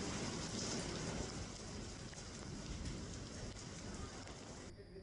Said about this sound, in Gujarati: ક્યાંક ધીમી ધારે તો ક્યાંક ધોધમાર વરસાદ થયો